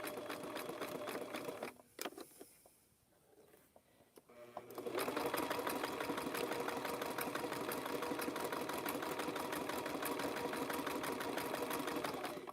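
A sewing machine stitches over zigzags on a fabric-and-rope coaster, running steadily, then pausing for a few seconds with faint handling sounds before resuming a long, continuous close-up whir.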